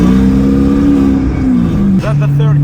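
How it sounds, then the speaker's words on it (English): A loud car engine revs with a steady rising whine, then drops and settles into a lower hum as it shifts into third gear, with a voice briefly over the top. "I can use the sound of the engine instead of the horn."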